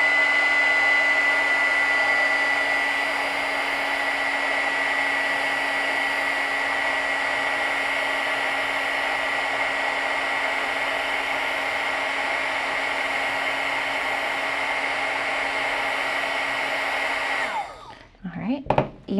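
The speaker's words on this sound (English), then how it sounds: "Place your heat gun directly on top of your bottle cap." A heat gun blows hot air straight down onto a metal bottle cap, a steady, loud whirring hiss that holds for about seventeen seconds before it is shut off and handling noises follow.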